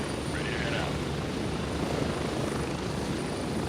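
Continuous helicopter rotor and engine noise from the Gray Zone Warfare game drones loudly and evenly, with faint voice traces buried beneath the roar.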